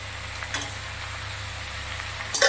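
Khichuri being stirred with a metal spatula in a pot, a steady low sizzle with two brief scraping clinks, close and fairly quiet, with no voices.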